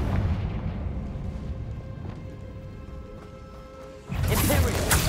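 Spell explosions from the Hogwarts Legacy video game, Bombarda and Confringo, burst as heavy booming blasts over dense, rumbling game audio, with a louder, brighter impact near the end.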